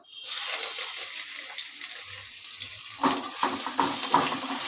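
Grated ginger and garlic fry in a pan while being stirred, a steady bright sizzle with soft scraping and clinks of the utensil growing busier toward the end.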